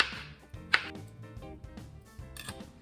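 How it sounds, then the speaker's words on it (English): A knife slicing through a banana against a cutting board, a handful of soft, irregular chops and taps up close, with one sharper knock standing out. "I'm just finishing up this 3rd banana, and once I am done cutting this up"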